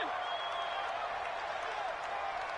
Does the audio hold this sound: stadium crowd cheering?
yes